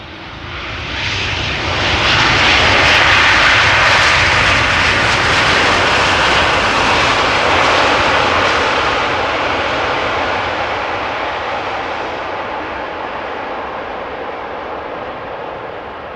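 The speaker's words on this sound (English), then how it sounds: "arriving from Delhi, Boeing 787-10 Dreamliner, flight 872" A Boeing 787-10 Dreamliner arriving at Amsterdam Schiphol gives a loud, broad jet roar that swells within two seconds, stays strong, then slowly fades as it passes close by, with no talking.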